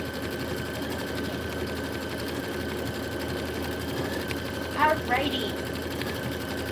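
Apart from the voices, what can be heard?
embroidery sewing machine sewing satin stitch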